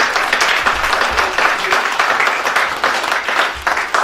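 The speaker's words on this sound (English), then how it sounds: "If we would please, or could please, give a round of applause for Allan." A round of applause at a funeral service, steady clapping from a gathered group of mourners held at an even level throughout, fairly close and continuous with no voices breaking through.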